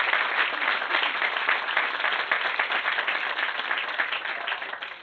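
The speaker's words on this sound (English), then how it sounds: "we would like everyone to give a round of applause for the parents of the bride and groom, Ramona Padua, Amanda Padua, and Greg Liz." A wedding crowd applauds steadily, many hands clapping in a dense, even patter that holds at full strength throughout.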